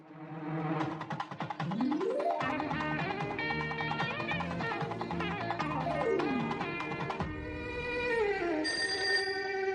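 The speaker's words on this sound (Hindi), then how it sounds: "hello hello" A telephone rings in an Indian film scene with a repeated electronic ringtone melody, rising and falling tones that loop steadily and fairly loudly, with no talking over it.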